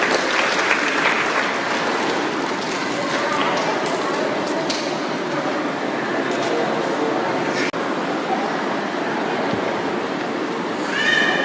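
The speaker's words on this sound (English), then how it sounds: "Please put a round of applause." Audience applause at a school concert opening ceremony in Malaysia, a steady wash of clapping across the whole stretch with some scattered sharper sounds and faint background voices.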